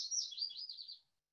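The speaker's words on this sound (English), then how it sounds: "Yes, you can hear the birds in the background." A single bird chirps outdoors in a quick warbling trill lasting about a second, clear and fairly close, alone in otherwise quiet surroundings during a summer evening faculty reading.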